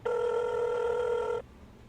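A single long electronic telephone ring on an outgoing call, a steady buzzing tone lasting over a second before cutting off into quiet line hiss.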